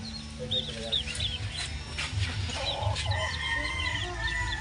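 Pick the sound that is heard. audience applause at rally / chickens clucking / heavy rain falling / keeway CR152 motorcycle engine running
chickens clucking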